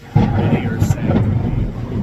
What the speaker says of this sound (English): You can hear the Lord's thunder in the background.